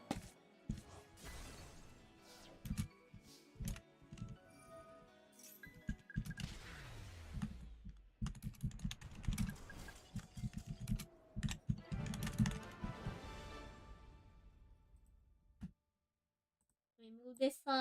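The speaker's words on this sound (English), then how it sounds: "Clear the keyboard so we can type." Someone types on a computer keyboard during a desk clean-up, with bursts of close, rapid clicking and clatter broken by brief pauses and mixed with a few heavier knocks, while a voice talks intermittently.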